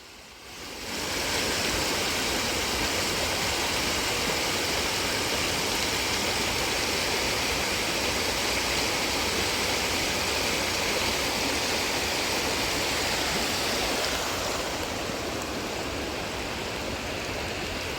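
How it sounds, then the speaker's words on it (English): A rushing creek roars in a dense, unbroken wash of water noise. It starts abruptly and stays loud and steady throughout, with no voices. "The angry creek."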